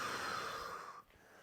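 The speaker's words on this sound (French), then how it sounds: "J'exagère à peine la respiration" Exaggerated breathing during slow floor movement: one long, close, airy exhale that fades out, followed by a brief quiet pause.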